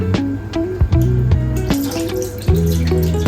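Running tap water splashes steadily into a bowl, with a few clinks and shifts as something is rinsed under the stream; no talking.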